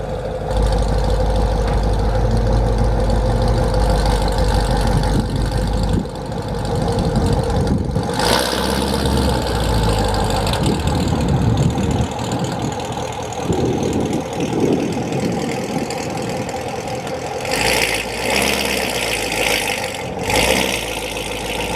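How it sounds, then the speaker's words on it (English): A Corvette engine on a lift, not yet fitted with a bigger cam, starts and settles into a loud, steady idle, with a couple of brief revs near the end and no talking. "This will be the last start you'll hear without it being cammed."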